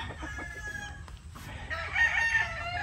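A young gamecock, a battle stag on a farm, crows in a drawn-out call that rises and holds toward the end, close and fairly loud over faint clucking and background noise.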